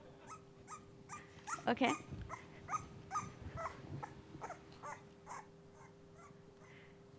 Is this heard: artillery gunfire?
no